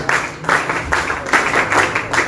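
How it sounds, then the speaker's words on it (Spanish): An audience claps strongly at a public meeting on citizen security proposals, a loud sustained applause swelling and easing in waves with no clear speech over it. "Nos seguimos con fuertes palmas"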